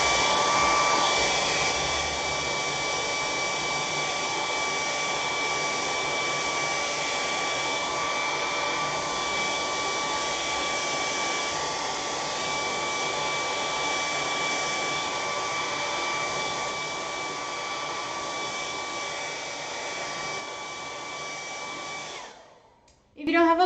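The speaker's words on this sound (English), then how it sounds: "I am going to dry the canvas one more time." A handheld blow dryer drying a freshly painted canvas in a beginner painting class runs as a steady, loud whir with a high whine for over twenty seconds, then cuts off abruptly as a voice begins at the end.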